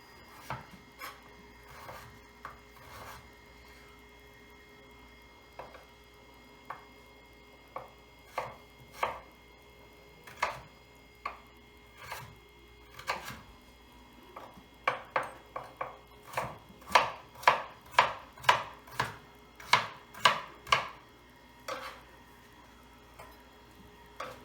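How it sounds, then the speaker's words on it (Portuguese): A knife chops zucchini and carrot on a cutting board, sparse single taps at first, then a quicker, louder run of crisp, evenly spaced strokes toward the end. "E vou cortar o resto da cenoura."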